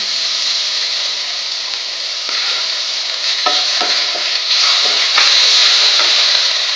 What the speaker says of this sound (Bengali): এবার আমি এতে আদা বাটাটা দিয়ে দেবো।